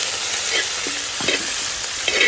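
Onion and ginger frying in a pan, a steady loud sizzle with occasional scraping and stirring sounds from a ladle.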